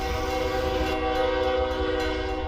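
Train horn sounding loud and sustained over the steady rumble of a passing train, with layered tonal blasts running through the whole stretch.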